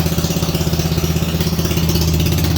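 A vehicle engine runs at a steady idle just after a jump start with a booster, giving a low rhythmic throb with a faint pulsing beat, close by and uninterrupted by voices.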